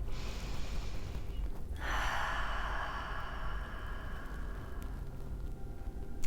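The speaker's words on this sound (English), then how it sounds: "So take a deep breath." A person takes one long, deep breath during an EFT tapping session, first a drawn-in inhale, then a slow, airy exhale, close and steady with no words.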